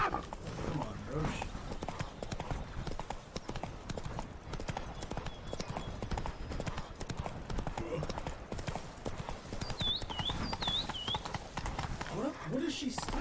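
Horse hooves clip-clop steadily at a walk through the game The Witcher 3 in misty Toussaint, a continuous close rhythm with a few whinnying tones and someone talking over it.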